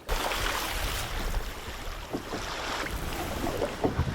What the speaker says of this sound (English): The waves are getting larger because I'm getting closer to shore now